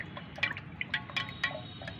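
Gel is stirred into alum water in a container, giving small irregular liquid swishes and light splashy clicks close by, repeated in quick bursts over a low background, with no talking.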